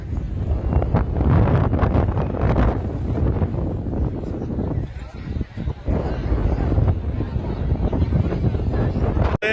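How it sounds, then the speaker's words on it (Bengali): Strong wind buffets the microphone at an army artillery training area, a loud, continuous low roar with gusting surges throughout, while a person speaks briefly over it. "এত বাতাস দাঁড়ানো যাচ্ছে না।"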